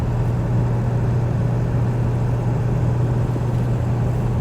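A 2000 Ford Excursion Limited with a 7.3L Powerstroke diesel cruises at about 60 mph near 1,800 RPM, giving a steady low droning hum with road and wind noise that holds constant throughout.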